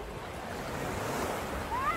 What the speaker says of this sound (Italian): Vediamo qui il mare di Villapiana.